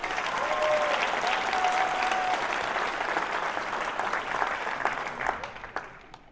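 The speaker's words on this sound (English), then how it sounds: "Give yourself a round of applause." A rally crowd at a get-out-the-vote event for Prop 50 in Folsom, California breaks into sustained, loud applause that holds steady and then tapers off near the end.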